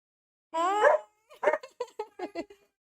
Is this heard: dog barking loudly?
yes